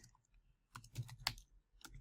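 Keys clicking on a computer keyboard while a git commit command is typed, a few quiet, separate keystroke clusters at an uneven pace, close up and faint.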